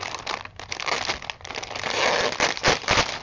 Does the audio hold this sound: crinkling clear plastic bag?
yes